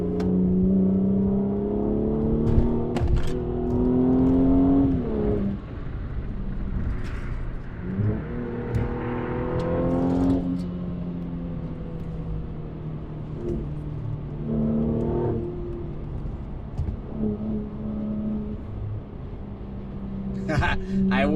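Mercedes C450 AMG on wet pavement, its engine revving up repeatedly in bursts, rising and falling in pitch with each pull and gear change.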